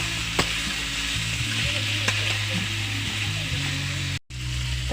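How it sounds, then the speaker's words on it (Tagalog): Pork for humba fries in a pan with a steady, close crackling sizzle, and a few louder pops and stirring scrapes on top. "magluto kog pinadagan nga humba"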